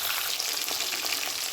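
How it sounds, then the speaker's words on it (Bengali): A fish head fries in mustard oil in a covered pan, producing a dense, continuous hiss and crackle, loud and close for the whole short stretch. "তাই আমি এটা চাপা দিয়ে একটু ভাজা হলে আবার আসছি।"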